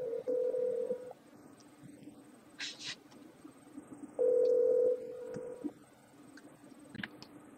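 An outgoing call placed through the TextMe phone app produces two separate ringback tone bursts, each roughly a second long, with a quiet pause between them. A few faint clicks and small noises are audible in the gaps.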